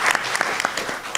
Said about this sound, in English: we should all give a round of applause for women's sports